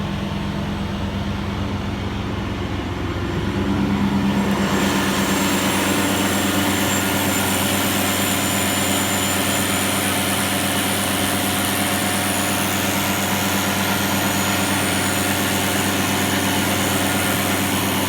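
A diesel engine held at 2,600 RPM during DPF regeneration runs with a loud, steady drone throughout, swelling in intensity a few seconds in and then holding constant without any voices.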